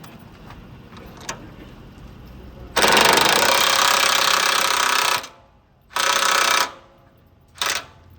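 Bolts being tightened down on the shafts of a Krokodile PLUS shredder with a loud, rattling power tool. Faint clicks come first, then one long burst and two shorter ones, close by.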